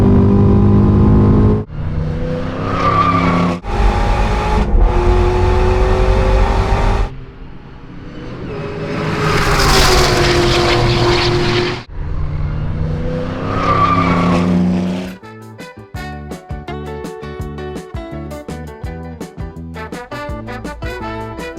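Loud car with a resonator-fitted exhaust revs hard and surges with some tire squeal on a mountain road drive, then fades under rhythmic music in the final seconds.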